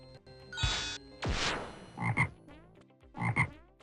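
Toads croak in King's Quest V, with three loud, close bursts of rough, throaty croaking separated by short pauses, standing alone with no talking.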